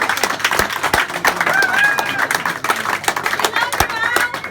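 A group claps and cheers for their colleague Alf, with bursts of hand claps, whoops and lively chatter overlapping near the listener.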